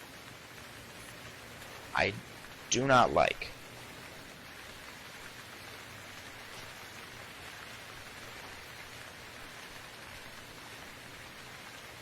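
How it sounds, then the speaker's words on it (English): Steady loud rain pouring in the survival game Stranded Deep, dense even hiss throughout, with someone briefly speaking over it near the start. "I've never actually had rain in my own game. It's actually really loud."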